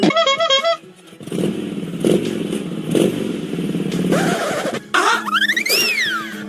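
Motorcycle on a rough, broken road, engine droning with repeated clattering thumps and rattles from bumps, a brief lull partway through, then revving and rising tonal whines near the end.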